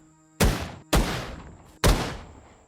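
Three pistol shots fired in the video game Rust, each a sharp, loud crack with a short decaying tail, spaced about half a second to a second apart with silence between.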